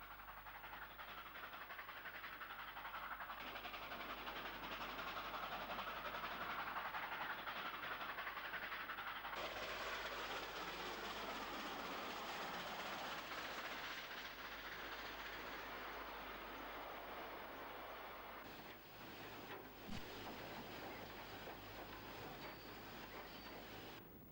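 Steam locomotive R761 rumbles steadily along the rails with continuous clattering wheels and hissing, loud and sustained throughout with no talking.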